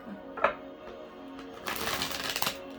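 A deck of reading cards shuffled close up, a brief tap at first, then a dense riffling flutter during the second half, fairly quiet overall.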